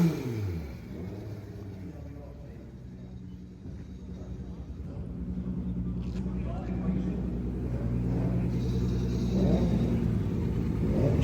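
Volkswagen Golf Gasser drag racing car at a VW drag racing event, its engine a steady, loud rumble that builds slightly as it runs, under an announcer's continuous commentary.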